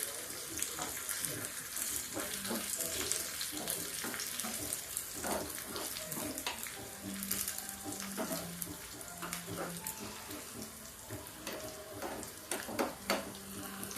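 Red chillies and spices sizzle in hot oil for a tadka over dal tikki, a faint, steady crackling hiss with scattered pops close by, with no talking.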